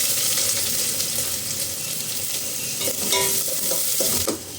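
Cashews and onions sizzle steadily in hot oil in a pan, a dense continuous frying hiss with occasional stirring scrapes near the end, close and loud.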